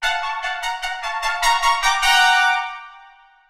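A MIDI trumpet section plays a run of short, punchy staccato chords. A final sustained tenuto chord closes the phrase and rings out and fades. The sound is bright and brassy with no voices.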